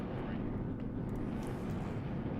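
Low, rumbling drone of airplanes passing overhead at Le Mans in the iRacing simulation, a steady, distant roar filling the low end without distinct breaks.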